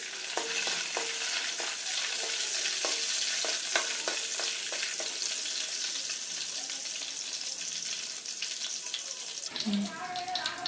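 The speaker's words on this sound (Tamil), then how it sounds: "நெய் ஊற்றுனதும் இதில் முந்திரி பருப்பு, திராட்சை பழம், ஏலக்காய் எல்லாம் போட்டு நெய்யிலே வறுத்து எடுத்துக்கிடுவோம்." Cashews, raisins and cardamom fry in ghee with a bright, continuous sizzle and light rhythmic stirring clicks, ending with a brief watery pour near the close.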